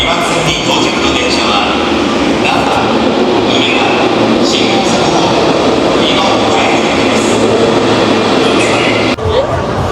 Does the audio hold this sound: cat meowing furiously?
no